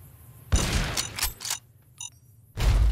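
Explosive-round gunfire from a gun in Fallout New Vegas: a burst of sharp, close reports with booming low thuds, a short mechanical clink in a brief lull, then another heavy blast at the end.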